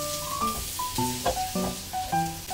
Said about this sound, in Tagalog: iset aside muna natin dito yung karne dahil magigisa tayo dito ng bawang